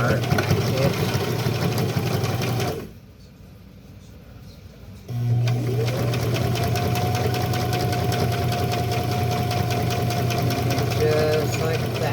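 A sewing machine stitches a zipper into a wrist wallet, running in a loud steady whir with a brief stop in the middle before stitching resumes at a constant pace.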